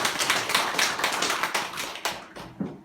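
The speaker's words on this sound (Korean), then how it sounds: "그래서 두 분을 위해서 한번 박수 한번 쳐주십시오" An audience at a Korean research institute seminar opening applauds steadily throughout, a dense patter of many hands clapping that eases slightly near the end.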